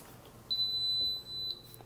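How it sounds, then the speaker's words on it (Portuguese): A single high electronic beep from an Ariete blender holds steady for about a second, briefly breaks, then sounds again over a low background hum. "Depois do bip, ele libera o uso."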